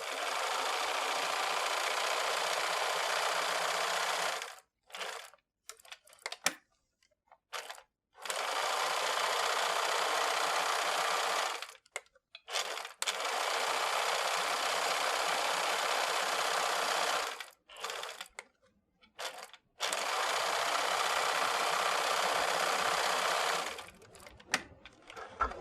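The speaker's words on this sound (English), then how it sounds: "I've set my sewing machine to a straight stitch and I'm just going to sew around very close to the edge" Home sewing machine running a straight stitch close to the edge of a fabric postcard, fast steady whirring bursts of several seconds each, separated by short pauses, close and clear with no talking.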